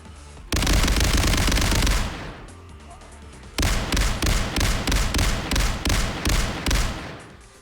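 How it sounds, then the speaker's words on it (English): An auto shotgun fires in a video game: a loud sustained burst of rapid blasts, a brief lull, then a second string of about eight evenly spaced heavy booms. "we gotta try our shotgun, auto shotgun variant"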